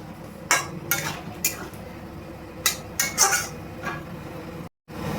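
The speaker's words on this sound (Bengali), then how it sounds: "আমি গরম মশলাটা দিয়ে ভালোভাবে নাড়িয়ে নেব।" A spoon stirs garam masala through prawn curry in a metal pan, with repeated close scraping and clinking strokes over a soft background hiss, then a brief silence.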